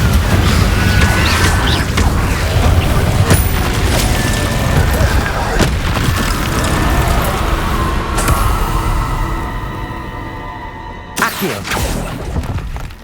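A loud, sustained rumbling blast from a Confringo explosion spell in the Hogwarts Legacy video game, dense and booming with crackling debris, mixed with game effects and a voice speaking.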